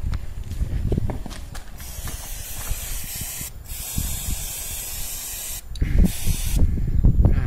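Cleaner sprayed onto engine valve parts during a repair of a bent valve, a loud continuous aerosol hiss in long bursts with brief pauses and light clatter of handling between them.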